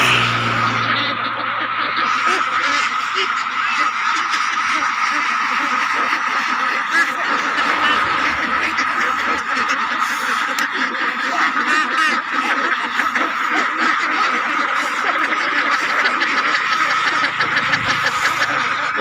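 A large flock of some 900 Peking ducks in a rice field, quacking in a continuous dense chorus that stays steady and fairly loud throughout.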